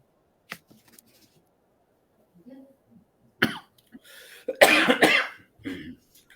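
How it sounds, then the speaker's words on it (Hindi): A person coughs several times up close, with short harsh bursts clustered together after a quieter stretch. "खांसी हो रही है।"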